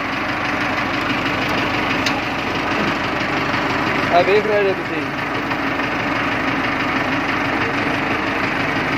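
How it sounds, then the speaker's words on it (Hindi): A Millat tractor engine running in low gear, with a steady close idling rumble throughout while someone talks over it. "आ लो गेयर है, ट्रैक्टर चल पिया जी"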